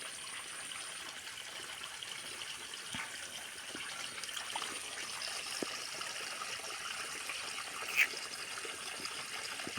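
Water flowing steadily through a digging pit in a creek, a continuous faint trickling and gushing with a few small knocks and no talk.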